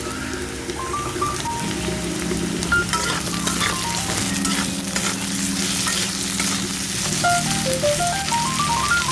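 Potatoes fry steadily in a pan for Bengali prawn and snake gourd poppy-seed curry, a continuous close sizzle with stirring scrapes and gentle crackle, no talk over it.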